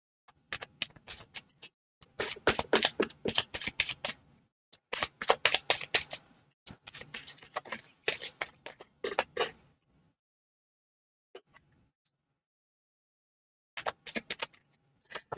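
Tarot cards being shuffled in repeated bursts of crisp riffling and papery flicking, close and clear, with brief pauses between rounds and a silent stretch before a final short shuffle.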